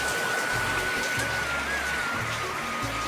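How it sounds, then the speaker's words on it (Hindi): Steady, dense rain hisses continuously with no pauses, with a faint low hum running underneath throughout. "बहुत ज़्यादा बारिश हो रहा है"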